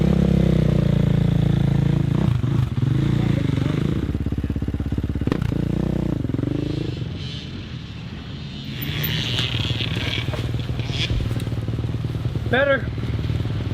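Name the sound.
KTM motorcycle riding laps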